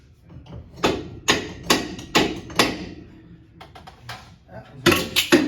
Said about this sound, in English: I can just knock the bolts out of it.